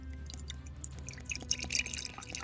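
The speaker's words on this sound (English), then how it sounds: "Holding the cup up very close to the keyboard so you can hear the pouring action" Maker's Mark whiskey pouring into a cup held close to a keyboard microphone, a continuous trickling, splashing liquid stream with small drips, near and fairly soft.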